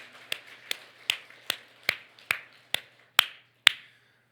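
A church congregation claps in unison during a Korean healing-service sermon, about nine sharp, evenly spaced claps at a moderate pace, fairly quiet with silence between them.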